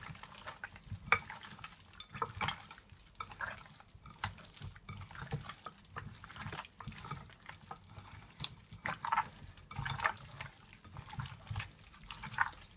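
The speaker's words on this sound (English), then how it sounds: "You can always use a gloves and just massage your oxtail." Hands massage seasoning into raw oxtail for a Jamaican oxtail dish, making faint, soft, wet squishing and rubbing sounds in an irregular rhythm, close by with no talk.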